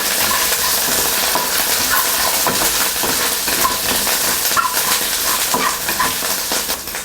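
Minced pork being stirred and mixed with Sichuan ya cai in a hot pan, with a continuous sizzle and irregular scraping and stirring knocks and no one talking.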